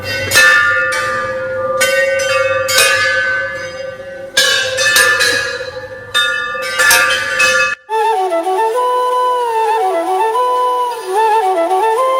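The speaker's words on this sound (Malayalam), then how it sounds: "അവിടെ ഒരുപാട് മണികൾ കെട്ടിത്തൂക്കിയിട്ടുണ്ട് അവിടെ നമുക്ക് ആ ഒരു സൗണ്ട് മാത്രമേ കേൾക്കുന്നുള്ളൂ" Many hanging bells ring at a Shiva temple in Mauritius, loud clanging bursts in irregular overlapping clusters that ring on, then give way to a steady sustained chiming tone.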